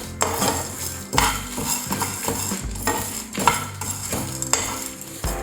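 Urad dal and lentils roast with asafoetida in a pan, a spoon clattering and scraping steadily against the metal over a faint sizzle, close and moderately loud with no talking.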